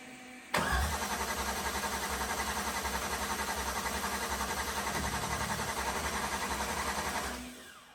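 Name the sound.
supercharged LS tow truck engine cranking, failing to start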